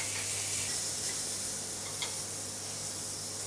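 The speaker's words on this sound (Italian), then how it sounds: "Iniziamo con i pezzettini di seppia." Small pieces of cuttlefish fry in a very hot pan, giving a steady, close sizzling hiss that runs evenly throughout with a brief brighter spatter midway.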